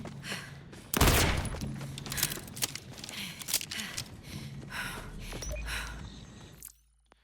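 Rapid gunfire in the video game Borderlands 4, with bursts of repeated shots rattling out loud and continuous for several seconds before stopping abruptly.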